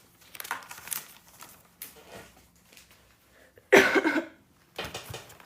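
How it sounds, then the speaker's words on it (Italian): A single burst of coughing, close and fairly loud, with quieter rustling and shuffling before and after. "C'ho un po' di tosse oggi."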